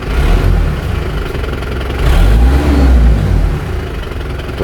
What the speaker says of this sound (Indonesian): Tuh ada dikit suara siulan turbonya.